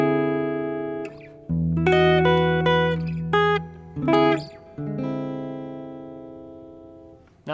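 Clean guitar picking a loose second verse of a song with a D raised 11th voicing, chords ringing and sustaining between plucked phrases, played alone up close.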